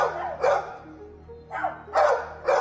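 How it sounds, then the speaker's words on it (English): Several dogs bark in animal shelter kennels, loud repeated barks in uneven bursts, overlapping and echoing in an enclosed space with a low background hum. "compared to the canine cacophony in the dog kennels"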